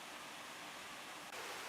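A strong flow of water rushes through a canal lock at Lydney Harbour, a steady, dense roar that stays constant throughout and is heard alone with no talking.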